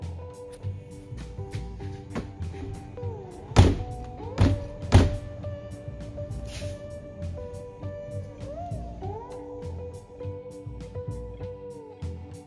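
A car door that won't stay closed gives a few loud, hollow thunks close by, with a cluster of impacts near the middle amid low mechanical rattling and background noise.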